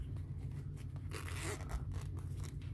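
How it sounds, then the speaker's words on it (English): A center zipper on an action figure's vinyl outfit is pulled open, giving a close, continuous rasping zip with a louder burst in the middle, over a steady low hum. "We got a center zipper."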